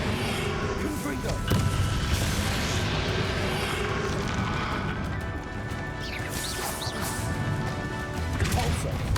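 In Hogwarts Legacy, the Confringo fire spell lands as a loud crashing blast, with booming impacts and crackling debris over a dense battle din, while a voice shouts during the fight.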